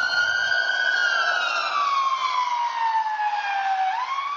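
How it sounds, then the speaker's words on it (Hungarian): A passing ambulance siren, loud and close, holds a high wailing pitch and then glides steadily downward as it recedes, a clear Doppler drop with no voices present. "Ahogy a mentőautó közelít, a sziréna hanghullámai összenyomódnak, viszont ha távolodik, kiszélesednek,"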